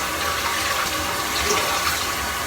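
A toilet flushes right after a new wax ring has been installed, giving a steady, loud rush of swirling water that runs through the whole stretch without any talking.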